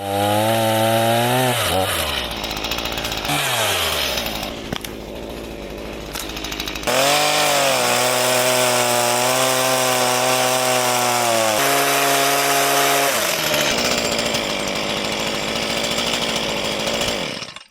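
A chainsaw cuts a tree stump down low near a pile of felled trees in the snow, its engine loud and close, revving and bogging through the wood, then dropping and climbing again in long surges.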